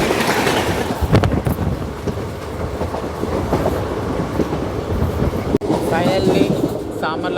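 A Howrah–Secunderabad special train in India runs steadily along the rails with a loud, continuous rumble and clattering wheel noise, with a brief dropout late on, while a voice speaks faintly underneath.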